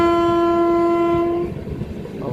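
On a train running from Dalgaon to Siliguri, a loud, steady horn blares for about a second and a half. It then stops, leaving the rumble and clatter of the moving carriages.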